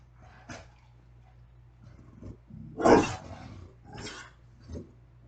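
A dog growls and grumbles in several low bursts over about five seconds, the loudest rising in the middle, with a faint steady hum underneath and no talking.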